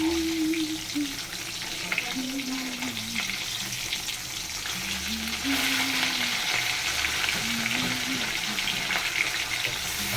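Amudi fish sizzle in a frying pan in a home kitchen, a steady close crackle and hiss that runs throughout, with a faint tonal hum drifting underneath.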